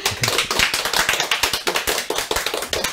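An audience applauds in thanks after a lecture on Chile's dictatorship and democratization movement: close, evenly paced clapping from a small group, with crisp repeated hand claps and no talking over it.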